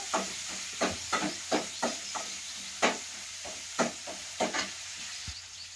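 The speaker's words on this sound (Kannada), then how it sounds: "ಟಮಾಟಿಯನ್ನ ಸ್ವಲ್ಪ ತಂಗಿ ಫ್ರೈ ಮಾಡ್ಕೋಬೇಕು" Tomatoes frying in a pan for a village-style potato gravy, with a steady soft sizzle under repeated stirring scrapes that come in a loose, uneven rhythm, close and fairly quiet.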